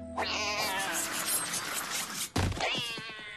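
A cat lets out a long, drawn-out yowling meow, breaks off briefly, then starts another loud, close wail.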